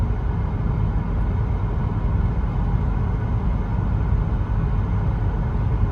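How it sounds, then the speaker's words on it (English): Inside a 2009 Lexus GS350 on the road, a steady, muffled low rumble of engine and tyre noise hums evenly throughout, with no voices. "As you guys can hear how quiet the car is, right?"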